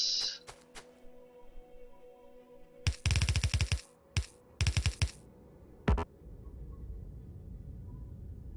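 Gun turrets firing in the video game Factorio, several short rapid bursts of clattering automatic shots separated by gaps, crisp and close over a low steady background hum.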